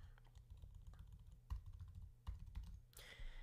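Someone enters a password on a computer keyboard: scattered, fairly quiet keystrokes with a few firmer taps, close by, with no speech.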